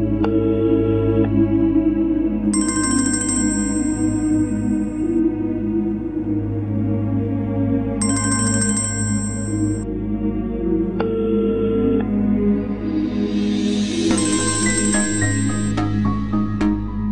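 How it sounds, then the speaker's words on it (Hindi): A telephone rings unanswered in a domestic drama scene, three separate bursts of ringing spaced several seconds apart over a steady low background hum, with no one speaking. "फोन क्यों नहीं उठा रही है?"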